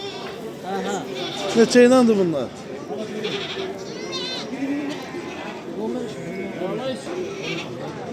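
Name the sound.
goats bleating at a livestock market in Ganja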